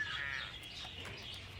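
Birds chirp and caw indoors inside a congressional office in the film Evan Almighty, a few short calls at moderate volume over a quiet room.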